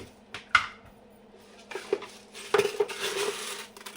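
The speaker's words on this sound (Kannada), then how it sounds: "ಕುಕ್ಕರ್ಗೆ ಬೇಳೆ ಸೇರಿಸ್ಕೊಳ್ಳೋಣ" Toor dal poured into a pressure cooker while making vegetable sambar: metallic clinks and rattles of the pan and utensils come in a few separate bursts, close up and fairly quiet.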